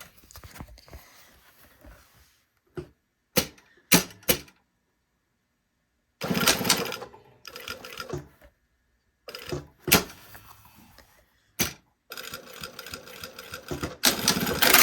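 A sewing machine stitches a zippered pocket in loud, close bursts of rapid whirring. The runs start and stop, broken by brief taps and quiet gaps.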